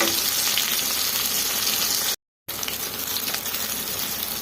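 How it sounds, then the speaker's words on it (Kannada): Peanuts frying in a little oil for Kannada-style peanut chutney, a dense continuous sizzle and crackle that cuts out briefly partway, then resumes at the same level with no voices. "ಇದನ್ನು ಸ್ವಲ್ಪ ಎಣ್ಣೆಯಲ್ಲಿ ಚೆನ್ನಾಗಿ ಫ್ರೈ ಮಾಡ್ಕೊಂಡ್ಬಿಟ್ರೆ ಸ್ಮೂತ್ ಆಗುತ್ತೆ"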